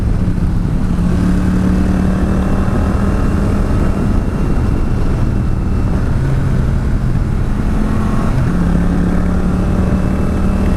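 A motorcycle with a GoPro exhaust fitted with a dB killer cut short by 3 centimeters rides a test track, giving a loud, steady engine drone with shifting pitch as it throttles on and off, close and continuous with wind rumble.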